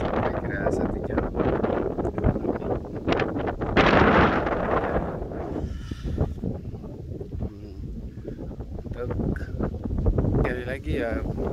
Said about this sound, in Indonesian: karena lagi ada angin juga ya